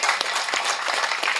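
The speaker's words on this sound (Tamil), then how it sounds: "ஒரு கைத்தட்டல் கொடுக்கலாமே." A crowd at the Silambam film audio launch event applauds, with many hands clapping in a dense, continuous wash of sound throughout, close and fairly loud.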